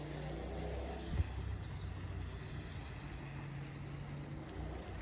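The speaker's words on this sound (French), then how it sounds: "Je vais arroser surtout la paille que j'ai mis qui était sèche" Water sprayed over dry straw in a lasagna garden bed makes a soft, continuous hiss and wash, steady and fairly faint, with one brief dull thump early on.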